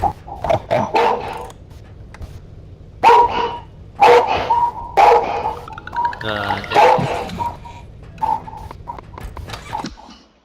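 Several sharp dog barks burst out in quick clusters in the video game R.E.P.O., near and fairly loud, over a low game-like background hum with some hoof-like clatter.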